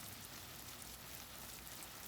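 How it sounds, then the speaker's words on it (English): Rain falls at an outdoor beehive site in a soft, steady hiss of drops on surfaces, faint and continuous with no voices. "It's raining"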